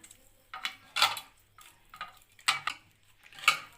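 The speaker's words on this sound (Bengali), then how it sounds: "এবার আমি এটাকে ম্যাশ করে নেবো ভালো করে" Cooled boiled potatoes being mashed in a bowl, heard as a handful of separate, fairly quiet taps and scrapes at an uneven pace, with near silence between strokes.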